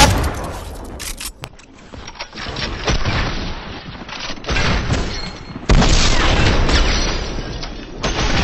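Rapid gunfire bursts from Fortnite Zone Wars, loud and dense with heavy booming hits, broken by a short lull before a sharper, sustained barrage near the end.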